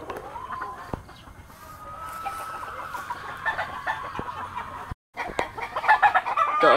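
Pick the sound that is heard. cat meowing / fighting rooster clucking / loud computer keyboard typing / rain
fighting rooster clucking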